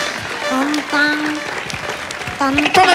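A studio audience at a televised KDI singing contest breaks into steady applause. The clapping stays loud throughout, with voices and faint musical tones mixed underneath.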